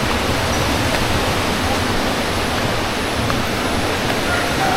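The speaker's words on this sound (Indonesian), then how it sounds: "Ini padahal sebelahnya tuh sungai ya, mepet banget sama jurang" A river rushes beside a lone house at the edge of a ravine in a forest village, its loud, dense, unbroken roar of water filling the scene from close by with no voices.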